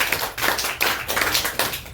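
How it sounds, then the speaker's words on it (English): A group of classroom students claps steadily, dense overlapping hand claps pulsing in several waves, nearby and moderately loud, with no talking over it. "Yes, please clap for them."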